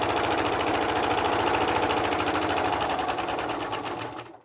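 A sewing machine runs steadily at high speed, stitching down a folded edge of fabric in one continuous loud burst that slows and stops near the end, with no talk.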